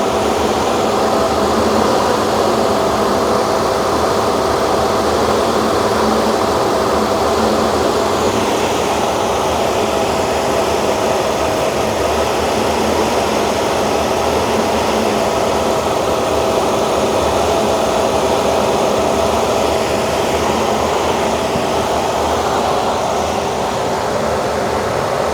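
A 1966 Chevy Corvair engine idling steadily with a vacuum leak, a loud, constant broadband hiss and mechanical drone that stays even throughout with no voices.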